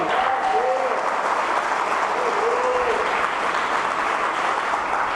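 Church congregation applauding during a sermon, a dense, steady wash of clapping filling the room at high level, with some voices mixed in.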